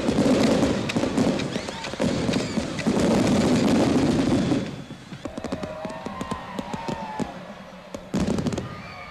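Fireworks crown a Suriname independence celebration with a dense barrage of loud bangs and crackling bursts, then settle into scattered pops, whistles and rapid firecracker-like crackles.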